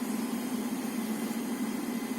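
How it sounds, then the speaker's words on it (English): Servo motors in a BYD electric car whir during start-up, a steady, dense mechanical hum with a strong droning tone, loud and continuous with no breaks. "You hear all kinds of servo motors"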